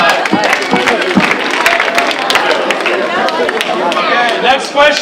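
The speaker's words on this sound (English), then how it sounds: "give a round of applause to that" A school assembly audience at a high school wish week event bursts into dense applause with cheering and crowd chatter, loud and close, sustained for several seconds while voices mix in.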